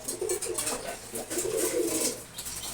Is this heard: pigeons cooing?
yes